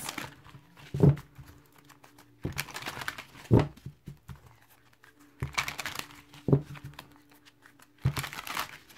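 Crisp riffles of stiff, brand-new playing cards come in short bursts, about four of them, each a quick crinkling flutter with pauses between.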